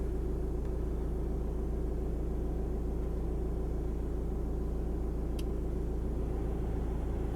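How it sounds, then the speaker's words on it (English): Steady low diesel drone of a 2016 Volkswagen CC, heard from inside the cabin at idle, a constant rumble with no talk over it. "we can definitely hear the diesel under the hood and inside the cabin"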